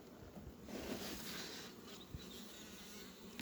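Honeybees buzzing around a hive being opened and expanded, a soft, steady, continuous drone at low level with no talk.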